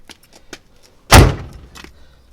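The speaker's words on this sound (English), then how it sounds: "so we'll lock the door" Light key jingling and clicks, then a single solid thunk as the door lock of a 1977 Buick Century is locked, close by.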